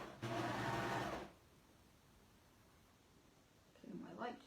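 Serger sewing machine stitching a quilt block, a close steady mechanical whir lasting about a second before stopping, followed by quiet room tone and a brief rustle.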